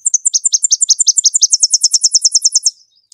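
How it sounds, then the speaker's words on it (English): Tennessee warbler song played back from a bird identification app: a run of high, evenly spaced chirps that speeds into a quick rapid trill near the end, loud and clear with no other sound. "So that's the Tennessee warbler."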